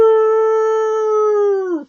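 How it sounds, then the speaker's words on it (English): Dogs howl in one long, loud, steady sustained note with rich harmonics that holds for nearly two seconds before breaking off, with no talking. "Let me get these dogs all worked up."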